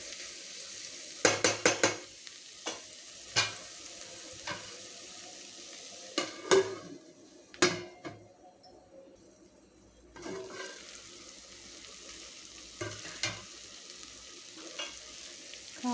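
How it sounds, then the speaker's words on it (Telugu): Spoon stirring chili powder into a beans curry in a pan: scattered scraping and clanking strokes with brief sizzling between them, some louder clatters, and quiet gaps, close and without talk. "ఇప్పుడు కలుపుకొని మంచిగా కారం మిక్స్ అయ్యే వరకు కలిపేసి"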